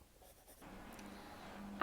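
A light gray colored pencil shades steadily across paper, a soft, continuous scratching that is quiet and close, with no talking.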